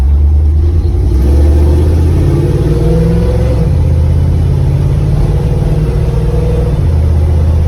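A Dodge A108 van with a 2-barrel carburetor engine accelerates, a loud, steady, close engine drone that climbs in pitch over several seconds, with small loose metal objects rattling inside.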